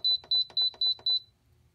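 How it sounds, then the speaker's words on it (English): An Instant Pot pressure cooker beeps after being set to manual high pressure for 15 minutes: five loud, evenly spaced electronic beeps in quick succession, close and alone, then quiet. "It's going to go ahead and beep."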